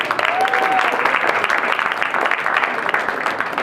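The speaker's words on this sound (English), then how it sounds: "We have to give him a round of applause just for that" Steady audience applause at a bowling tournament press conference, dense and fairly loud, with a brief whistle near the start.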